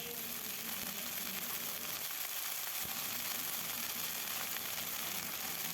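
Dried shrimp frying in a pan until reddish, a steady close crackling sizzle running throughout with no talk.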